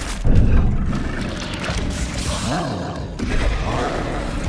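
A Bombarda spell explosion in Hogwarts Legacy, a loud booming blast with rumbling impacts amid chaotic combat noise.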